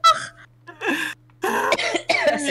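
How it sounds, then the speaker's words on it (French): Loud, close coughs come in several separate bursts, with a steady low hum from a Roblox Murder Mystery game session in the background. "Je vais tousser."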